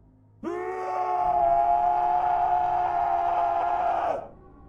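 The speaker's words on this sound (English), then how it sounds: "It was a blood-curdling scream, unlike anything I have ever heard." A long, piercing high-pitched scream rises suddenly, holds steady and loud for several seconds, then cuts off, with nothing else around it.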